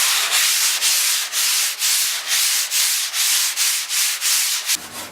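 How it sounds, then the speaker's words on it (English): A surfboard blank being sanded by hand with a soft, flexible gauze sanding pad, giving loud, steady rhythmic scrubbing strokes that repeat about twice a second and fade at the end, with no talking. "using a gauze, which is like a soft flexible piece of sandpaper on a soft pad"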